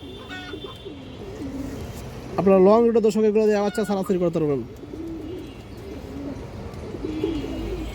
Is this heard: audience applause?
no